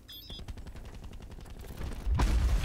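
Gunfire in the multiplayer shooter Black Ops 4: a rapid burst of shots rattles for about two seconds, followed by a louder, heavier blast at the end, with no voices.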